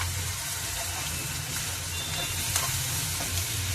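Onion-ginger-garlic paste and green chillies frying in hot oil for a raw mango and drumstick curry, a loud steady sizzle close by with faint stirring scrapes.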